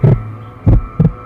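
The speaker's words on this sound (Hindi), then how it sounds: "धड़कन बहुत जोर से धड़क रहा है।" Heavy, close heartbeat thuds pound loudly over a steady low drone, a single beat then a tight double beat in a slow rhythm, alone without talk.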